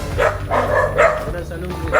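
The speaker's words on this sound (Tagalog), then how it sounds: "Sasalubungin tayo ng mga aso." Dogs bark in greeting as visitors arrive at a home, several short yapping bursts spaced across the moment, fairly close and loud, with people talking over them.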